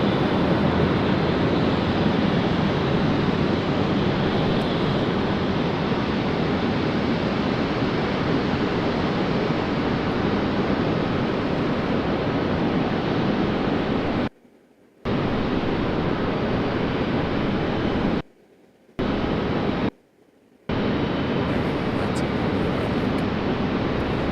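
FedEx ATR turboprop airplane passing near an airport, a broad continuous roar that drops out briefly several times.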